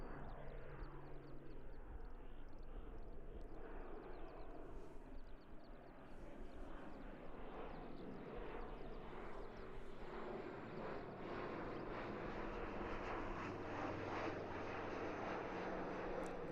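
A fixed-wing airplane taxis at Christchurch Airport, its engine a steady distant roar that swells slightly over time, heard outdoors with no talk.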